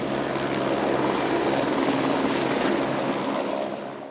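Army and civilian helicopters fly over the site of a Nepal plane crash, a steady loud rotor and engine roar that holds for the whole stretch and eases slightly at the end, with no voices.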